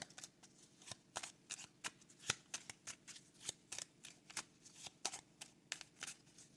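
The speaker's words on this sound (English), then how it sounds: "Let's get out the Hand of Fate with the bicycle deck." A Bicycle deck of playing cards being shuffled, with repeated crisp riffling bursts and card slaps at an irregular quick rhythm, close and fairly quiet, with no talking.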